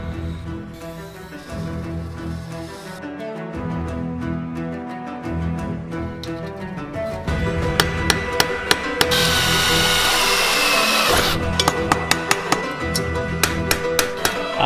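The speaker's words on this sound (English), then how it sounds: "I believe I've drilled 60 holes so far in this thing" Power drill boring holes in metal for a forged medieval-style helmet, a steady motor whine rising into a harsher grinding whir midway, with sharp metallic ticks and clicks repeating toward the end.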